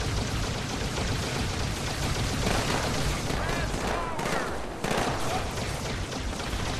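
Turret gunfire in the video game Halo 2 rattles in dense, continuous bursts, loud and steady throughout, with a voice faintly mixed beneath the din of weapons.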